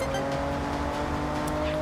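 A Toyota Supra mk4 in Forza Horizon drives with a steady, loud engine drone holding a constant pitch, close and continuous with faint tire noise.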